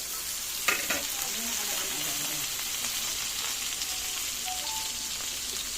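Kangkong, tofu and tomato adobo with bagoong fries in a pan, giving a steady loud sizzle with a few sharp pops and splatters near the start. No one speaks.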